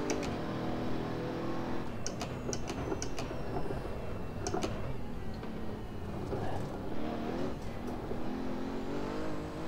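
A Pagani Huayra engine in Assetto Corsa revs and holds under a steady high transmission whine, with occasional sharp clicks, loud and continuous.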